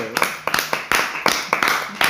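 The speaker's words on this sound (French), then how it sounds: "Allez, on applaudit Marilyn." A studio audience applauds Marilyn with a steady, rhythmic series of claps at a brisk regular pace, moderately loud and close.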